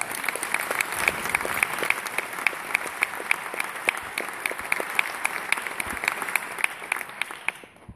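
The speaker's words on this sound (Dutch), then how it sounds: "Mag zeker een applaus zijn" A crowd applauds steadily for several seconds at a Dutch theatre prize ceremony, with dense, even clapping that fades out at the end.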